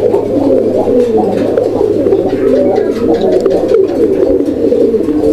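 Breeding pigeons coo continuously and close by, a loud low throaty burbling that rolls on without pause, with no talking over it.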